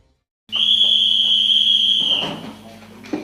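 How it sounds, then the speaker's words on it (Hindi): A single long, shrill whistle signals lights-out at a commando training school, holding one steady tone for nearly two seconds before fading into background clatter. "ठीक 10 बजे की सीटी ऐलान करती है सोने के वक्त का"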